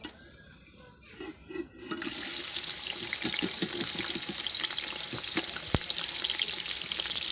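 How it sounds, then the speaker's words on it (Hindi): Onions drop into hot ghee in a pan, where a quiet start gives way to a sudden, loud, broad sizzle that holds steady with small crackles. "घी हमारा गर्म हो गया है, तो अब हम इसके अंदर प्याज डाल देंगे।"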